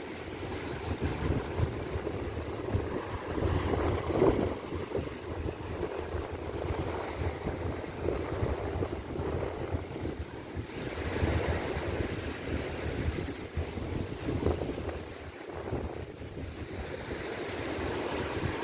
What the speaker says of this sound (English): This is the Chaweng region beach resort.